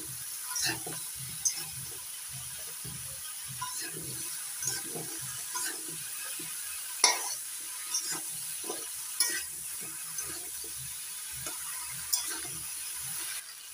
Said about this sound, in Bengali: সবজিগুলো নাড়াচাড়া করে দিচ্ছি